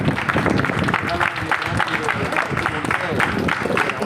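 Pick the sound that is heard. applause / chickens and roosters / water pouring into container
applause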